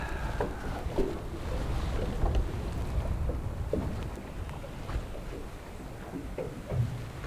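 Steady wind blows across an open fishing boat at sea during a day of snapper fishing on a reef, a continuous rough buffeting with occasional knocks and gusts and no voices.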